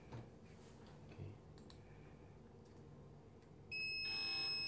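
An electronic access-control alarm buzzer for an unregistered user switches on suddenly near the end, a steady high-pitched multi-tone drone after a few seconds of faint room noise.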